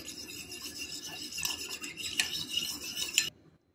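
A spoon scrapes and stirs in a bowl as milk and fresh cream are mixed for a quick dessert, close rhythmic rubbing with light clinks, stopping abruptly into silence.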